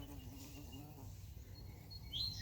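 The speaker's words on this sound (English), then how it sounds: "Here's another bee." A bee buzzes faintly in a home garden, a soft, steady hum close by against quiet outdoor background, with no talking.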